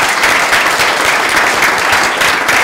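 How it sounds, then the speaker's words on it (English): A room full of people applaud at a graduation breakfast, a loud, dense, even wash of clapping that carries steadily throughout without voices over it. "I think you deserve a round of applause"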